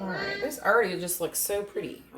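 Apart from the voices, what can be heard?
No everyday noises stand out.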